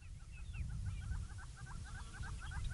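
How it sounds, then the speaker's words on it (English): Two helmeted guinea fowl drinking outdoors, with steady repeated chattering calls over low rumbling background noise throughout. "There's two helmeted guinea fowl"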